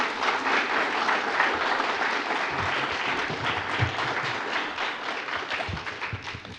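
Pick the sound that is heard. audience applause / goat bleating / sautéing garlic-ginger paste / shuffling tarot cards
audience applause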